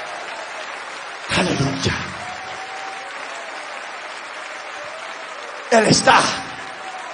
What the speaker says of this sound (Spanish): Den el aplauso al Señor Todopoderoso.